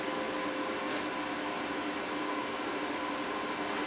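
A Forney Easy Weld 140 FC-i flux-core welder lays a bead, giving a steady, close crackling hiss that runs unbroken without talk.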